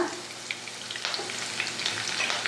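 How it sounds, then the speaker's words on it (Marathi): Chopped green chilies and curry leaves sizzle and crackle in hot oil with cumin seeds, with a few stirring scrapes in a pan, steady and close for a couple of seconds. "आता यात मी कापून ठेवलेल्या मिरच्या टाकते आणि थोडंसं हलवून घेते थोडासा कढीपत्ता"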